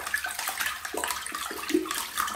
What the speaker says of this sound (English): Let's see if I can make some waves in the water.